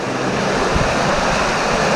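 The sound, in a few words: sewage water flowing into the Godavari river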